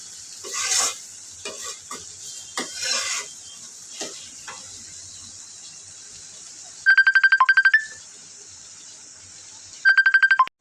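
Thick beef tripe, already cooked down with spices and no gravy left, fries in a pan with soft sizzling and a few stirring scrapes, while a phone ringtone cuts in twice with loud bursts of rapid ringing.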